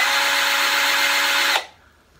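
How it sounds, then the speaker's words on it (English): Cordless drill driving a flexible shaft attachment to back a screw out of a wall, a steady close whine for about a second and a half before cutting off abruptly into quiet. "Let's say I wanted to unscrew a screw from the wall right here."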